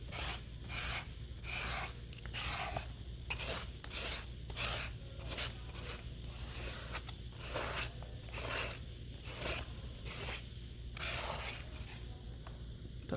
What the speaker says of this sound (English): let's just scrape that gesso through